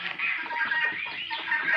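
Chickens, mostly Aseel and Kadaknath, clucking softly and continuously in a backyard coop, a close murmur of overlapping low calls.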